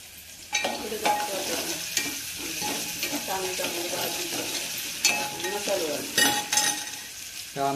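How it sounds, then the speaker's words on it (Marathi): Onion tempering in hot oil sizzles steadily as a spoon stirs and scrapes the pan with repeated close clinks, fairly quiet and unbroken throughout. "तेल घातल्या कांदा टाकून म्हणजे जसं आपण"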